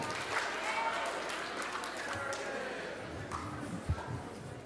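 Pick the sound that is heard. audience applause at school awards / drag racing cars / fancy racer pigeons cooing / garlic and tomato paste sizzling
audience applause at school awards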